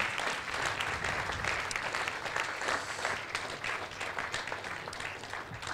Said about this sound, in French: Écoutez, on peut vous applaudir.